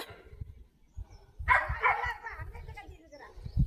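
A dog barks once or twice at close range in a quiet night-time setting, with low thumping sounds around it and no clear speech.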